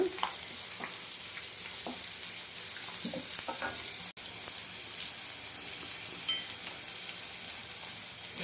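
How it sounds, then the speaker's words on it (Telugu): Garlic sautés in a pan, giving a steady, close, bright sizzle of frying throughout, with a few soft stirring scrapes and no talk. "వెల్లుల్లిపాయలు కొంచెం అట్లా మగ్గాల"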